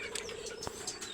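A caged male songbird in a bird shop gives several short, thin chirps in quick succession. The chirps sound faint and slightly distant against a quiet background.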